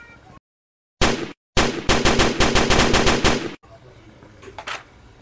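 A plastic toy machine gun fires in two quick bursts, the second a long, rapid rattling stream of loud clattering shots close to the microphone, followed by quieter handling noise.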